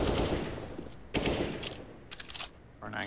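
Counter-Strike gunfire on the Vertigo map during a professional ESL Pro League match, loud bursts of shots with a sharp report near the middle, then lighter scattered pops and game noise.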